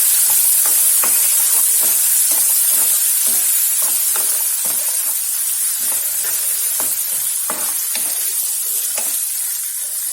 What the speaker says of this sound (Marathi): आता आपण त्यामध्ये मिरची आणि टोमॅटो हे टाकून घेणार आहोत आणि याला सुद्धा छान परतून घ्यायचं आहे